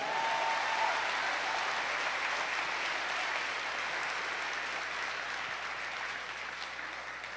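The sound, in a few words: congregation applauding in church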